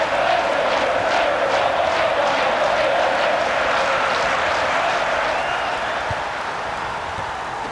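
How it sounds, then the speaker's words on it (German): A large stadium crowd in a football video game roars and applauds after a Champions League semifinal win between Manchester City and their opponents, a dense, steady wall of cheering that fades slightly toward the end. "Das Halbfinale ist gewonnen und der Jubel ist entsprechend groß."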